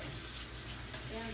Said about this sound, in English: I'm going to get these rings washed out really quick